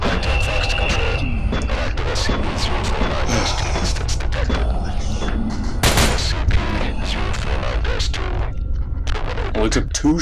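Gunfire in the horror video game SCP: Containment Breach, dense bursts of shots over a busy, loud game soundscape, with voices talking over it.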